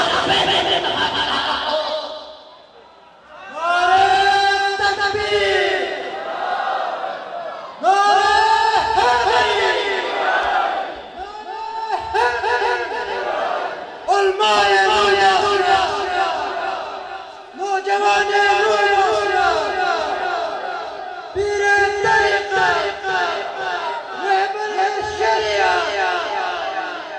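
A large crowd at a religious gathering chants loud, rhythmic responses to the Nara-e-Takbir call, with repeated bursts of massed voices separated by brief pauses.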